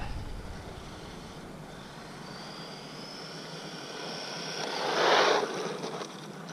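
A DEERC 9206E budget RC car on 2S or 3S LiPo runs flat out in a straight line. Its high-pitched motor whine climbs steadily over wind noise, then swells into a loud, close pass around five seconds before fading.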